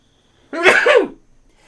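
A single sharp, explosive human sneeze bursts out close to the microphone, one short voiced blast with a quick tail, in an otherwise quiet room.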